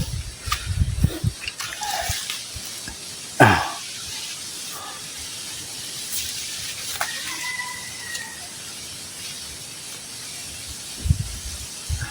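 Water poured out in a rural provincial yard, a steady hissing splash with a sharp louder gush partway through, close and loud, with faint background noises around it.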